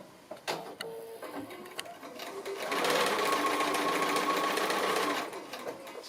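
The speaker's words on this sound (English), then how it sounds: "So I'm going to go ahead and sew this piece number 5 on at an angle." Sewing machine stitching a foundation-pieced quilt block at an angle: a few short starts and clicks, then a steady, fairly close whirring run of stitches that holds for a couple of seconds before slowing to a stop.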